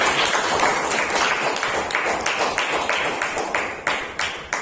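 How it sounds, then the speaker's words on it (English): Toastmasters club audience in Bangalore gives a sustained round of applause, many hands clapping densely and steadily at close range with no talk over it. "Kirtana deserves a big round of applause"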